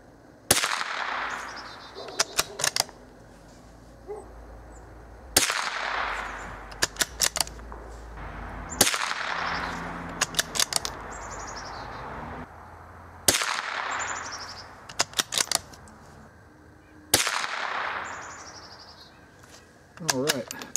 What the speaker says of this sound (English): Next up, we got the Remington bolt action.